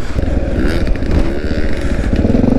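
Honda XR650L motorcycle riding on a beach, its engine droning loudly and continuously close by with uneven throttle pulses and a rough mechanical rumble throughout.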